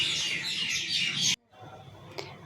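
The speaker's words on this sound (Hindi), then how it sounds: "आप लोग देख सकते हैं चिड़ियों की आवाज़ आ रही है।" Small birds chirp nearby where a troop of monkeys roams, a bright dense twittering that cuts off abruptly, followed by quieter scattered calls and a single sharp tweet.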